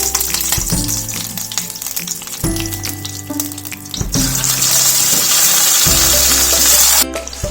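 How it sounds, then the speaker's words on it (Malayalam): Marinated fish pieces for Kerala fish molee sizzling in hot oil in a pan, a loud continuous crackle with occasional clatters and knocks as pieces are moved, close and without talk. "നമുക്കിതിനെ ഒന്ന് വറുത്തെടുക്കാം"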